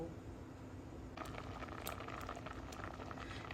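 Basmati rice boils hard in a pot of water on high flame, a dense continuous bubbling with brighter pops and small splashes scattered through, steady and close, no talking.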